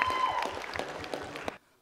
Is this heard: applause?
yes